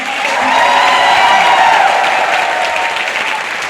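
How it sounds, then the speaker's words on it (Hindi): Loud, sustained applause from a live audience at a motivational talk in Jaipur, filling the hall with dense clapping that swells and then slowly eases off, with no speech over it. "एक बार आपको अपनी मिट्टी के लिए भी तालियां बजानी चाहिए।"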